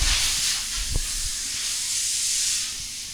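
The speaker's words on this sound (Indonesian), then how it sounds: "Cuy kalau lo mau tahu itu suara kompresor" A continuous, loud airy hiss of air compressor fills the whole stretch, with a faint low thump near the start.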